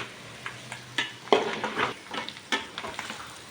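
Chicken roast frying in a pan while being stirred, with a soft steady sizzle broken by several close scraping and clinking stirs of the utensil against the pan.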